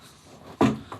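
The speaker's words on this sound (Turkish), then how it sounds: "Kapıyı kapat." A door in an old guesthouse swings shut with one solid thud, followed by a faint knock as it settles, in an otherwise quiet room.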